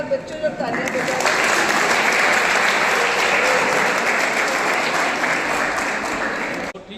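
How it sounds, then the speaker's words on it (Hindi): Schoolchildren give a burst of loud, sustained applause for students' exam results. The dense clapping fills the room for about six seconds and then stops abruptly, with faint voices mixed in. "एक बार बच्चों जब तालियां बजाएं।"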